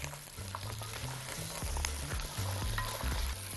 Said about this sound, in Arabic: خلوني نحط الفول كده الاول، نقلبه تقليبه حلوه مع البصل